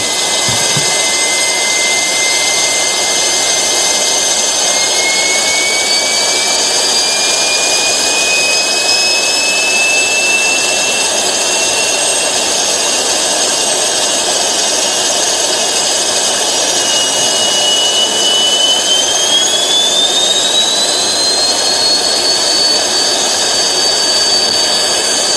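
A domestically built Turkish jet engine runs on a test stand with a loud, continuous roar and rising high-pitched whine tones that climb as fuel is fed, steady and close throughout.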